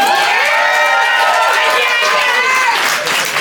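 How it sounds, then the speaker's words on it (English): Studio audience at a head-to-head game show bursts into loud, sustained applause with cheering and shouts, a dense continuous roar that holds steady and dips slightly near the end. "Give a round of applause if you thought Heather Anderson won the first round"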